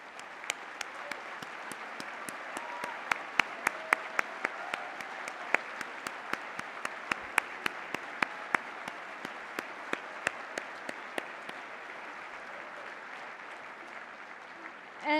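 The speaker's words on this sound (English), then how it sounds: "please stand and give them a round of applause" An audience at a human rights awards event applauds the organization's staff with sustained clapping, some claps close and crisp above a broad crowd wash, tapering off toward the end.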